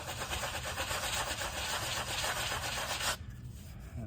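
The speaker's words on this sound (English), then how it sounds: "All you're gonna do is sand around the edges." Close, rhythmic sanding scrapes around the edges of failed paint on a driveway or floor surface, rubbing steadily for about three seconds before stopping abruptly.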